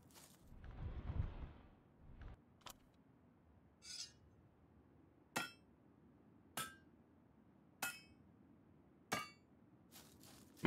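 Hammering quarter beams in the Medieval Machines Builder game: about seven sharp wooden-metal knocks at a steady, slightly spaced rhythm, preceded by a soft rustle and a brief chime, with no talking.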